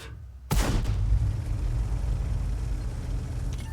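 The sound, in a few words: tank cannon fire in a tank video game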